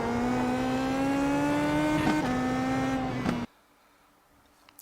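A car lapping the Nordschleife in first gear, its engine holding a loud, steady high-revving drone that rises gently, then cuts off abruptly near the end, leaving near silence.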